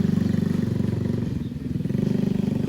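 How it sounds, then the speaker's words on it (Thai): A homemade buggy's small engine drones steadily as it creeps across wet, muddy ground, a loud close putter with a slight dip and recovery midway, no talk. "เราก็จะมาขับในพื้นที่ที่มันเชื้อแฉะนะครับ"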